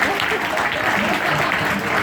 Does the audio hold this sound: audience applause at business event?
yes